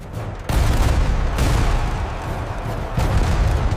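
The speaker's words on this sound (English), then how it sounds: "with cannon fire." Cannon fire at an old fort booms out in several heavy, close blasts, each followed by a rumbling roll that merges into the next.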